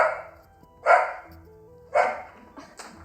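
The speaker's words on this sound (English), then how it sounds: "Sorry about that, my dog is barking." A pet dog barks indoors in a few sharp, separate bursts about a second apart, fairly close and loud against a quiet room, with a faint whine between barks.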